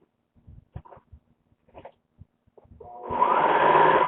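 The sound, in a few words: sewing machine sewing a knit top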